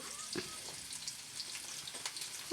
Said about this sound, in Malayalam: ഉള്ളി ഇഞ്ചി സവോള പച്ചമുളക് ഇത് ഇത്ര അരിഞ്ഞു വെച്ചത് എണ്ണയിലിട്ട് വാട്ടുക